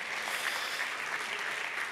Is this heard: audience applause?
yes